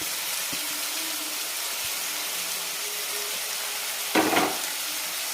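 Tomato, green chilli and coriander fry in a pan, a soft steady sizzle with occasional light taps and a brief, louder scrape of stirring near the end.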